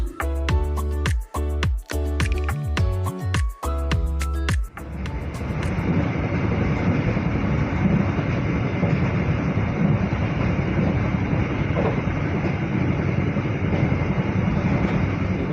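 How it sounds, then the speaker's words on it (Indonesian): Bangunkarta passenger train pulling away from Kutoarjo station, starting with rhythmic clanks and rattles before settling into a loud, steady rumble and rushing roar. "Kereta api Bangunkarta melanjutkan perjalanannya kembali dari stasiun Kutoarjo."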